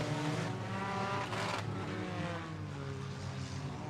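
Compact and hobby stock cars race around an oval at Raceway Park, their engines roaring loud and steady, with a brief swell of a car passing close by.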